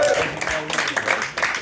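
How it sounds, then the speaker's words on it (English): Audience at a live comedy show in Somerville, Massachusetts, clapping in a short burst of applause that sounds close and fairly loud, with a voice talking over it. "Guys, clap it up for Doug."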